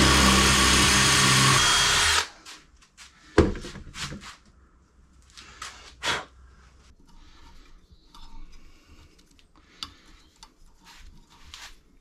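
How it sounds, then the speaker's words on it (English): A power drill stepping up through bit sizes in half-millimetre steps on a seized brake bolt, one long loud steady whine at the start, then short bursts and clicks of tool handling, close by. "I'm just going up drill bit sizes by 1/2 mil at a time"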